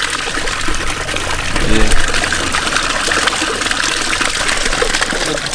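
Dirty rinse water from a deep-cleaned, very dirty rug gushes and splashes out of a carpet-cleaning machine in a steady, noisy pour with a brief louder surge, and a person speaks briefly over it.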